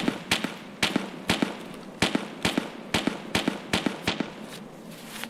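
Suppressed shotgun fired repeatedly in a video game, a steady run of about a dozen sharp, muffled bursts roughly every half second at moderate loudness, with no talk.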